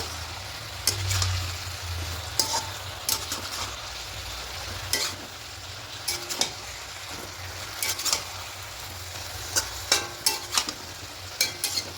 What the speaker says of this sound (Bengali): আর স্বাদের জন্য মিষ্টিটা দেবো। খুব ভালো করে মিশিয়ে নেব।